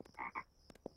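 Cartoon frogs in an animated Bratz film give a string of short, throaty croaks, several quick calls packed into about a second, close and clear with no talking.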